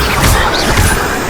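In Hogwarts Legacy, a Bombarda blasting spell strikes with a brief, loud, crashing impact at close range that fills the whole moment.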